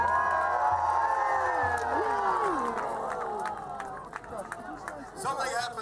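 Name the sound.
crowd cheering at medieval fair joust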